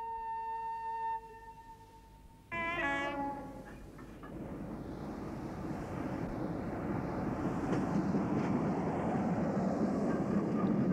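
A train pulls away with a brief horn or whistle blast, then settles into a steady, swelling rumble of running wheels that grows louder and fills the rest of the scene, with no voices.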